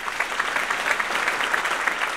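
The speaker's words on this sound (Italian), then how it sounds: "Un applauso finale saluta l'uscita del feretro dalla chiesa." Steady, dense applause from mourners inside a church as a coffin is carried out at a funeral, continuous and even without pauses.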